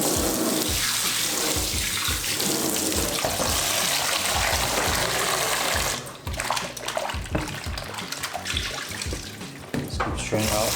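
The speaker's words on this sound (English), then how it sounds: "You gotta wash your meat" Chicken wings for lemon pepper wings are rinsed under a running kitchen tap, a loud continuous gush into the sink for about six seconds, then broken splashing and handling noises as the water is interrupted.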